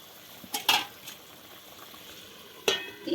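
Young eggplant pieces go into a pan where eggs are frying, giving a soft sizzle with a few sharp clinks and scrapes of a utensil against the pan, near and fairly quiet, with no talking.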